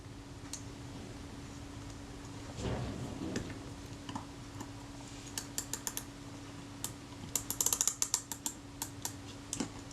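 Shutter mechanism of a Zeiss Ikon Contina IIa camera being cocked, a low mechanical scrape followed by quiet ticks and then a quick run of small ratcheting clicks, close and faint with no talking.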